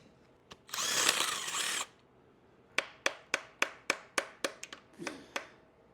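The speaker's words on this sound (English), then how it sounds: "taking rod caps off with a ball peen hammer" About ten sharp metallic ball peen hammer knocks in a quick, steady rhythm, knocking rod caps off a blown stock car 383 engine, after a brief loud burst of power-tool noise.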